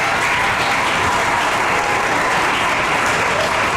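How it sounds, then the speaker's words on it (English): An audience at a school African-American History event applauds for staff members, a dense and steady wash of clapping from many hands that lasts throughout. "Can you give our staff members a round of applause?"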